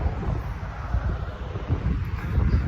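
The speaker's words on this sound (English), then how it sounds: "Sorry, it's getting windy again." Gusty wind buffets the microphone with a loud, constant low rumble and roar, with no voices heard.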